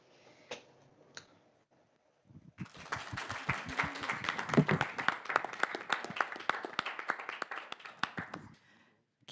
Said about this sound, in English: there were many claps